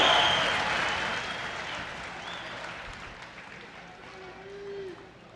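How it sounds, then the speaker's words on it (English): Crowd applause and cheering at an amateur bantamweight title fight between Keegan Witbeck and Jeff Jepsen, loud at first and slowly fading, with a brief shout rising near the end. "How about a round of applause for these two fighters going the distance in this title"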